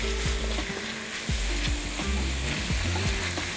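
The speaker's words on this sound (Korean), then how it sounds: "버터, 코스트코나 인터넷에서 쉽게 구할 수 있는 냉동 채소들을 같이 넣고 볶아주면 됩니다" Butter and frozen vegetables stir-fry in a pan for a chicken Wellington, a steady bright sizzle with repeated scraping and knocking of the utensil as it is stirred, close and without voices.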